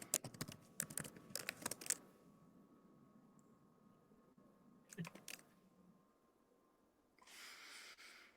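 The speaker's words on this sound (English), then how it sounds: "I hear somebody typing a question" Bursts of keyboard typing, clustered clicks in a couple of short runs with quiet gaps, followed by a steady hiss near the end.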